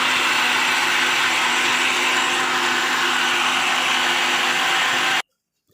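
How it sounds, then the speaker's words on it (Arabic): An electric blender whirs steadily and loudly, mixing dough for about five seconds before cutting off abruptly. "نضرب في الخلاط كده لحد ما كله يتعجن كده مع بعضيه ويتماسك"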